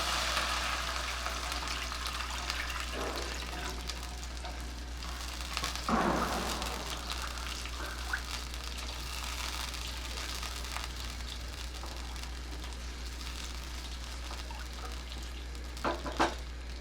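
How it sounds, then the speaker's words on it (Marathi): Water poured into a hot pan of Manchow soup base with vinegar over high flame, a brief rushing splash and hiss followed by low steady sizzling and a constant hum, with no talk. "आता पाणी घालते"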